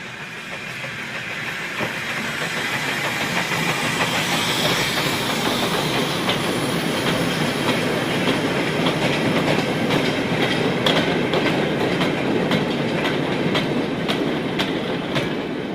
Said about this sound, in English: An afternoon mixed goods train is headed away from Loughborough.